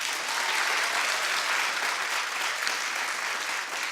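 Dense, loud audience clapping fills the room in an even, continuous wash of many hands at a comedy-style live show, holding steady for the whole stretch.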